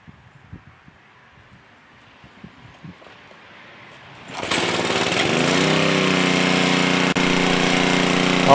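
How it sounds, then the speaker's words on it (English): A loud pressure washer blasts a removed gas tank from a 1976 Pontiac Firebird, a second-generation F-body, during cleanup. A few seconds of quiet handling noises come first, then the spray and motor kick in with a steady, roaring hiss. "All right, folks, are ready to hit it with the pressure washer."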